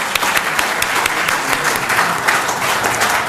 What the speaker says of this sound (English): one round of applause for the fantastic officer.